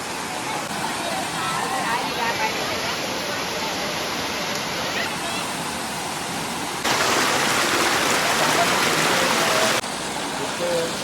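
A hidden waterfall in Alibag, running with less water than usual, gives a steady broadband rush of falling water close by. The rush swells louder for a few seconds midway.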